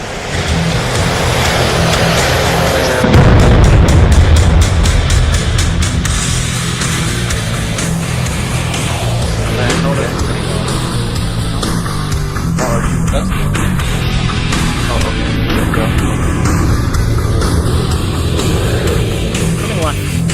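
A steady roaring engine rush from an F-18 Super Hornet in an afterburning turn at a virtual Blue Angels airshow over Pensacola, loud and continuous, with a sudden louder surge and crackle around the third second, under radio-style talk.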